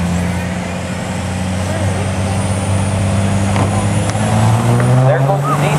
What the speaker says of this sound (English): There goes the diesel.